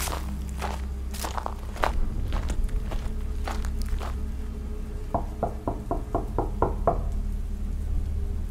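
Footsteps walk along at a steady pace, followed by a run of about seven distinct knocks on a door at the end of the approach to a small house on the edge of town; no one speaks.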